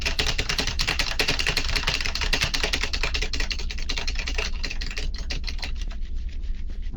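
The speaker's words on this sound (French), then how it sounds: "Pourquoi j'entends des sons de clavier" Rapid computer keyboard typing clatters densely and steadily, close and fairly loud. It thins out toward the end while someone plays Escape the Backrooms.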